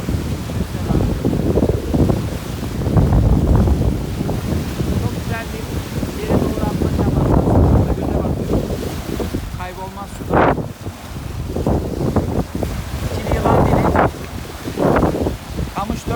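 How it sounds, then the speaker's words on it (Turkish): Heavy wind buffets the microphone in steady low roaring gusts while fishing at Çanakkale, with a voice talking over it and faint water movement beneath. "Çok rüzgar var."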